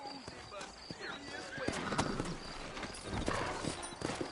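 In Red Dead Redemption, hooves clop steadily and a horse whinnies amid a busy outdoor scene, with voices talking over it.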